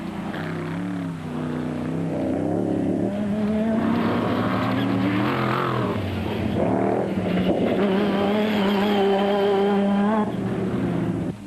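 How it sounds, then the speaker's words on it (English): A Jimco race boat with a 7-litre engine races through water, a loud, continuous engine roar that rises and shifts in pitch as it revs, steady throughout with no voices. "gingerly piloted the Jimco with its 7-litre engine through the H2O"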